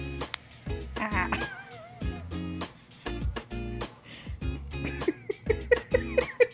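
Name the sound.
cat meowing while biting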